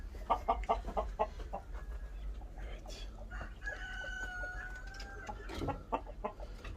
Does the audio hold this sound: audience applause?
no